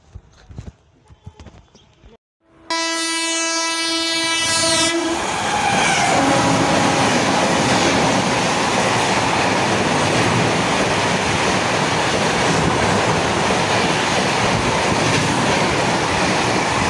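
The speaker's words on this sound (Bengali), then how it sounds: "এই যে এখানে একটা ট্রেন দাঁড়িয়ে আছে, এই যে অনেক বড় এটা।" A train passes close by, opening with a loud sustained horn blast and giving way to a heavy continuous rumble and clatter of wagons that stays loud to the end after a quieter start.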